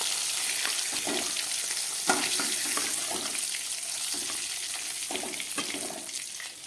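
Fish frying in oil in a pan, a steady sizzle with scattered crackles and light clatter running throughout, fairly close and without talk.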